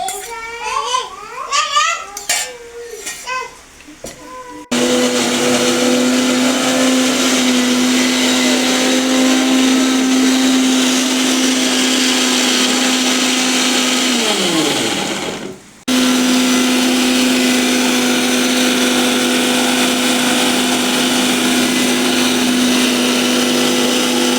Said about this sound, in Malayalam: ഒന്ന് മിക്സിയിലിട്ട് അടിച്ചെടുക്കാം കേട്ടോ വെള്ളത്തോടെ തന്നെ അടിച്ചെടുക്കാം